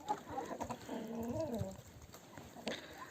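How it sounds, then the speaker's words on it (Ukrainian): Faint, high-pitched peeping from ducklings, a quick cluster of wavering chirps followed by softer scattered calls. "Качки малі такі смішні."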